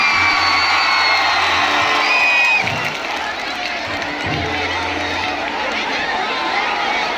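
Loud crowd at an outdoor Bhojpuri stage show in Bengal cheering, whooping and shouting, dense and close at first, then easing to a lower ongoing crowd murmur with voices throughout.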